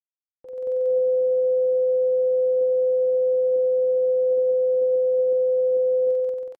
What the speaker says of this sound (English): Suppose the frequency of this tuning fork is 510 Hz. Here is what it sounds like.